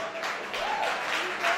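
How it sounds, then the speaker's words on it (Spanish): Brief burst of audience applause for the first lady at a country music tribute concert, moderately loud with some crowd voices mixed in. "Fuerte el aplauso para la primera dama"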